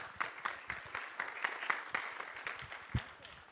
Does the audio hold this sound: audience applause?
yes